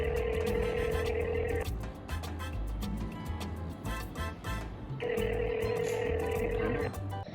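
A phone call rings out as someone tries to reach Rushad Baba: a repeating ring tone sounding in two long bursts with a pause between, fairly loud and near, over background noise.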